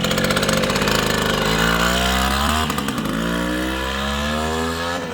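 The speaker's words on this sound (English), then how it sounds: "the MR50 Honda MR50 full classic. Just did a complete frame off on this. Take it for a little rip." A restored 1974 Honda MR50 motorcycle with a new engine runs close by, its small two-stroke buzzing loudly, rising in revs and then falling in pitch as the throttle eases off.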